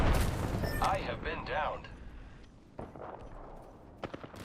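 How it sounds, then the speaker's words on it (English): Enemy gunfire in a video game: dense bursts of loud shooting and explosions fill the opening, then sparser sharp shots continue while a voice speaks over the action. "The enemies are shooting at me."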